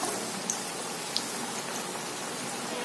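Arbi leaf pakoras frying in hot oil over a medium flame, giving a steady, close, fine crackling sizzle with a couple of faint pops and no voices.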